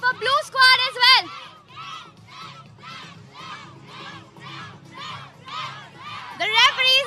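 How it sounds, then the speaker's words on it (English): A crowd cheers for the red squad at the NRL 2025 Champions of Champions final, a rugby league match, with rhythmic repeated chant-like bursts of many voices and louder shouting voices at the start and end. "The cheer for the red squad says it all."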